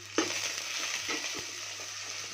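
Ginger and garlic fry in hot oil in a pan for a Kerala okra tamarind dish, giving a steady close sizzle with a faint scrape of stirring and no talk.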